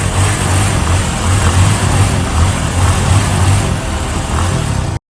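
A Honda Tornado motorcycle engine pulls away with a loud, steady mid-pitched drone, its low pulsing firing beats held close for about five seconds before cutting off abruptly, with no speech.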